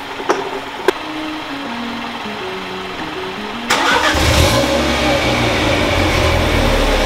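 A tuned Mini Cooper S, running catless on a Stage 2 tune, cranks briefly and fires up loudly, then settles into a steady, strong idle inside a garage after a couple of sharp clicks.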